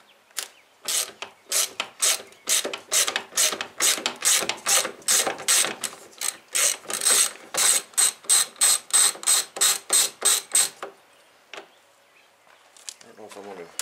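A ratchet spins 7/16 nuts off the mirror studs of a 1991 GMC Jimmy in a close, quick run of about two dozen sharp clicking bursts, then stops, leaving faint handling noises.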